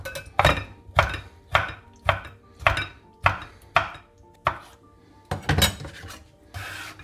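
A knife dices roasted red pepper into cubes on a cutting board, about ten crisp, evenly spaced chops, each a sharp close knock with a short scrape, then a softer brushing sound at the end.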